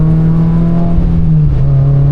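A Toyota GR86 track build drives with a loud, steady engine drone at an even pitch, which dips briefly and then recovers, close-up from inside the car with no talk.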